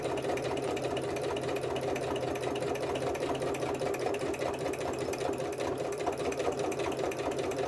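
A sewing machine does free motion stitching on a paper button, a fast, steady mechanical whirring and chattering that runs continuously and alone at a moderate level.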